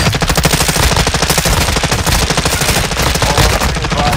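Rapid automatic gunfire in the Call of Duty Warzone video game on Ashika Island, a loud continuous burst of machine-gun shots filling the whole stretch, close and dense with no talking.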